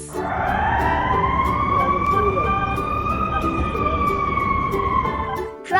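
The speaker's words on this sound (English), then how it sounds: "Ambulance." An ambulance siren wails loud and close in a long rising and falling tone, held steadily for several seconds over a low rumble of traffic.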